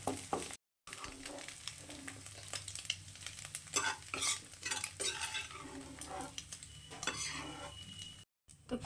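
A fried egg is lifted out of a wok with utensils, scraping and clinking against the metal under a low, steady sizzle of hot oil, with brief silent gaps at the start and end.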